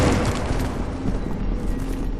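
A loud, dense explosion roars continuously with no voices in Tomb Raider Underworld, its broad rumbling blast holding steady throughout the clip.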